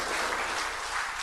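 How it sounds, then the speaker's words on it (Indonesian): Steady applause from an audience at an Indonesian ministerial handover ceremony, a brief moderately loud burst of many hands clapping in a hall. "Tepuk tangan sekali lagi untuk Bapak Menteri."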